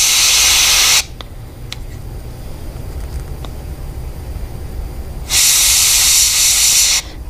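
Spray paint hisses from an aerosol can onto a stencil of a Picasso percula clownfish: one loud spray burst, a quiet gap with faint clicks, then a second sustained burst that cuts off sharply.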